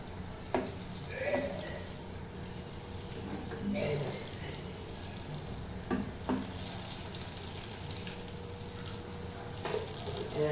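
Palm fruit fritters (taler bora) deep frying in hot oil give a steady, moderate sizzle with occasional sharper crackles and utensil clinks, while a voice is heard now and then.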